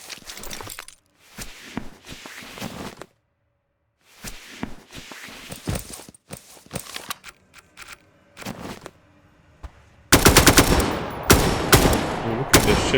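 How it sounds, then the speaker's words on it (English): Guns firing in the pixel-art survival shooter Scavland, sharp gunshots and short bursts scattered through the clip with metallic clinks like falling shells, ending in a loud sustained burst of rapid fire. "I'll shoot the guns"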